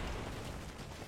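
A grenade going off in a video game, a short, dense burst of blast noise that fills the whole moment and then tails off slightly.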